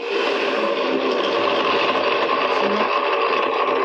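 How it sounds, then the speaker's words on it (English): A blender making a fruit smoothie whirs loudly and continuously at a steady pitch, a dense buzzing drone with no talking over it. "That's the blender doing its stuff. It's blending."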